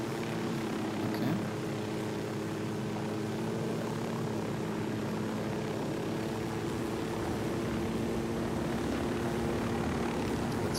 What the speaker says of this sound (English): Let's fly a little helicopter so we can pass.